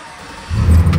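A 5.3L V8 in a 2006 Chevy Silverado cranks on the key and catches, a loud low rumble swelling up halfway through and holding steady close by.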